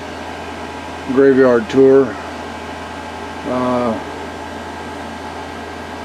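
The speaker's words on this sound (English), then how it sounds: "I hope the air conditioner noise isn't too much, but I'm not going to turn it off." Air conditioner humming steadily inside a camper parked for the night, a constant low drone running throughout beneath a few brief bursts of speech.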